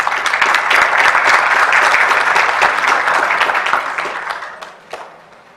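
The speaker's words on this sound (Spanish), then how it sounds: "al cual vamos a recibir con un fuerte aplauso" Steady audience applause welcoming a guest speaker at a formal lecture event, dense and loud from the start, then thinning and fading out over the last second or two with a few scattered claps.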